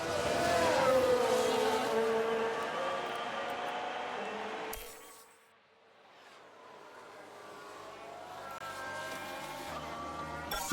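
A race car spins out in the game F1 Manager 22, a loud engine whine with tyre skid sweeping and dropping away into near silence before the engine roar builds back up, with faint background noise.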